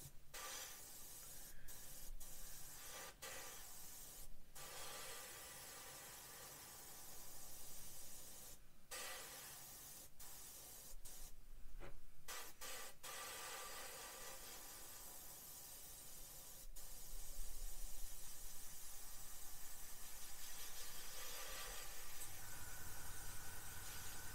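A Gaahleri airbrush sprays very thin paint and air for exhaust staining and oil weathering on a model, giving a steady close hiss broken by short pauses, with no talk.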